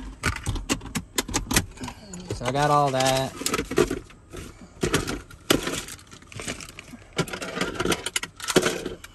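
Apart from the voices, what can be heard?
jangling keys for new lock cylinders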